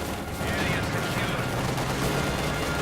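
Dense bursts of small-arms and machine-gun fire rattle continuously as infantry squads are cut down in the real-time strategy game Company of Heroes 2, loud and close throughout, with a voice faintly underneath.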